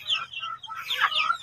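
Free-range chickens in a breeding area, including Decal White crossbred with Barred Plymouth Rock, give brief clucking and chirping calls close by, a couple of quick vocal bursts over a faint low background.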